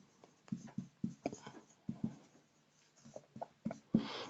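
An equation being written on a board during a maths class, a string of short scratchy strokes and taps in quick irregular bursts, close and fairly quiet, with pauses between strokes.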